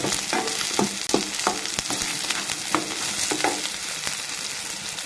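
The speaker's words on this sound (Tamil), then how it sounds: "அதையும் நல்லா வதக்கிடுங்க." Chopped onions and a lemon-sized lump of tamarind sizzle and fry in a pan for ridge gourd curry, with a steady hiss and intermittent scraping stirs, close and continuous.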